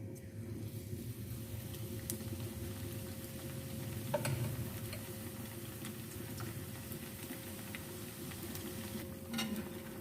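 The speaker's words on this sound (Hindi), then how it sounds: "बाकी भी हम इसी तरह से फ्राई कर लेते हैं।" Lentil fritters for dahi bara sizzle in hot oil, a steady close crackle and bubbling with a low constant hiss and occasional sharper pops.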